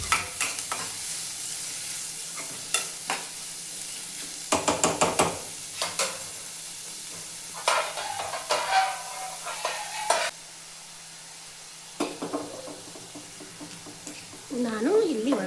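Green chillies fry in a pan for Kannada-style susla, a bright sizzle with intermittent stirring clatter and scrapes, close by, with a voice talking over part of it.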